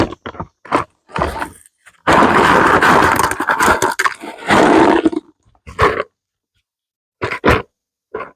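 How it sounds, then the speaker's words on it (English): Granite rocks dropped and poured into the bottom of a plant pot, loud close clattering and grinding bursts separated by short silences. "I'm going to take some rocks, and these are granite rocks that we use for around here, and I'm going to put them in the bottom."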